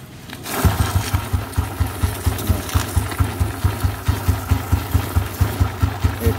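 A Royal Enfield Cast Iron 350cc single-cylinder motorcycle engine starts and settles into a steady, rhythmic thumping idle, each beat distinct and close, with a suspected knocking fault and no voices over it.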